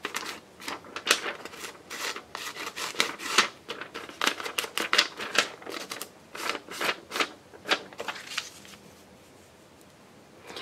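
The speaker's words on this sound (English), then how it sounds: "Loud rustling of paper." Paper being handled during ephemera crafting, loud crinkling and rustling in quick irregular bursts for several seconds before settling into quiet.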